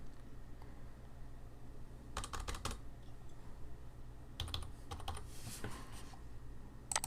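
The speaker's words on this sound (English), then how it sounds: "I'm going to type that in here." Credit card details typed on a computer keyboard, with two separate bursts of rapid, close key clicks over a low steady hum and a few scattered single taps in between.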